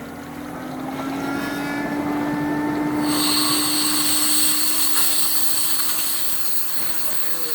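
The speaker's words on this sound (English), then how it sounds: "turn the pump back on, you'll catch a prime" A pool pump switched back on to catch its prime hums with a steady motor whine. A bright, higher-pitched tone joins a few seconds in, and the sound holds continuous and close.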